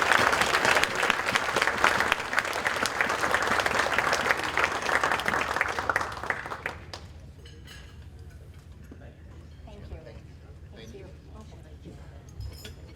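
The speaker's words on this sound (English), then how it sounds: "a round of applause" Guests at a chamber of commerce awards dinner give a round of applause, loud dense clapping that fills the room for about six seconds and then drops away, leaving a quiet hall with faint clinks of glasses and cutlery.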